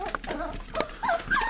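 Several dogs whimper and whine in short high-pitched bursts, close and fairly loud, with scuffling in a home setting.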